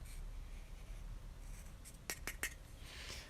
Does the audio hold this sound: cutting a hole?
yes